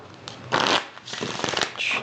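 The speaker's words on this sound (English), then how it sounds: "let's go ahead and give that a shuffle" Tarot cards riffled and shuffled in a couple of quick, crisp bursts, close up with no voice over them.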